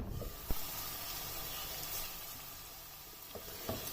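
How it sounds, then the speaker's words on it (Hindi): Onion and tomato cook in oil in a covered pan, a broad steady hiss and sizzle at close range, with a few brief knocks and clinks from a utensil. "प्याज और टमाटर को मैंने 5 मिनट तक ऑयल में कुक होने दिया है।"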